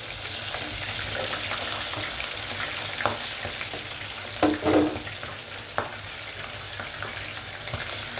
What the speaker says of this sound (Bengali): মাংসটা ভাজা হচ্ছে।